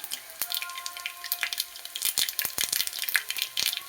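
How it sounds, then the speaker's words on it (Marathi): Onion and mustard seeds sautéing in hot oil, with crackling pops and a bright sizzle, plus occasional stirring taps throughout. "थोडीशी मोहरी साईडला तेल टाकून आणि यामध्ये परतून घेऊ"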